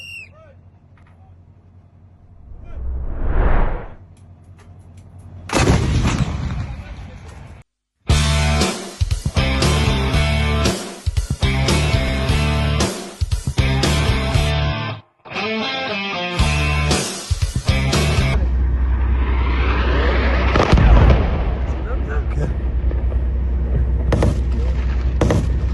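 Israeli artillery cannons firing in Gaza, heavy booming blasts and sustained roaring rumble with loud broadband bursts, abrupt cuts between shots, and a long rushing roar near the end.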